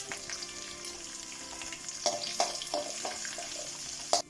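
Urad dal, ginger and green chili fry in hot oil for a tomato thokku, a quiet steady sizzle with a few sharp clinks and spatters toward the end, and no voices.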